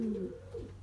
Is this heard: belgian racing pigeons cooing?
yes